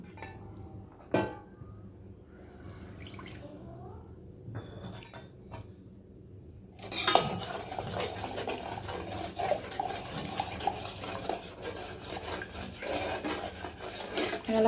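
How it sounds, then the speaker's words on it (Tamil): A spoon scrapes and rubs against a bowl, stirring custard powder into milk. Sparse, faint taps at first, then a louder continuous swishing scrape close by. "பால் ஊற்றி கரைச்சிக்கலாம்."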